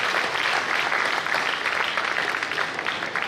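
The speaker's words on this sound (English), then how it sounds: "So please let's applaud him as he leaves." An audience at a builders' conference in Lagos applauds, with dense, steady clapping filling the whole stretch at close, even loudness.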